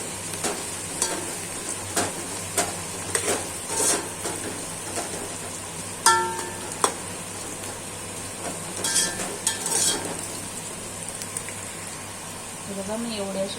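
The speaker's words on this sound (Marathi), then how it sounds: "मी याच्यात थोडंसं मीठ टाकते म्हणजे कांदा लवकर फ्राय होतो." Onions frying in a pan for chicken biryani, a soft steady sizzle with occasional stirring scrapes and clinks, fairly quiet, and someone talks briefly over it.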